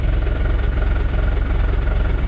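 The engine of a 6x6 Perentie vehicle idles close by in a steady, loud, low throb with an even rhythmic pulse and no talk over it.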